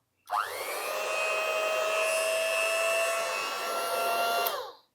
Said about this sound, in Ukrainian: Для тесту в нас є ось такий невеличкий міксер. Тихенько. 300 Вт. Підключаємо його до інвертора та вмикаємо.